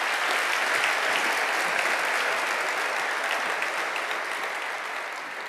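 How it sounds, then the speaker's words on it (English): A lecture audience gives a sustained round of applause for the event organisers, dense and steady clapping that holds for several seconds before slowly thinning out. "they all deserve an incredible round of applause"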